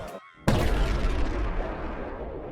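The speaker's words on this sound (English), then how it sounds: "the crystal shatters, emitting a bright light and a large explosion" A glowing crystal shatters in a huge explosion: a low hum cuts out, then a sudden loud blast hits and rolls into a long, rumbling decay with no voices.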